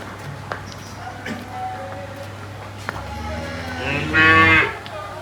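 A cow gives one loud, close moo near the end at a village livestock sale in Dhotian, Punjab, where cows and buffaloes are traded, with quieter background noise and voices before it.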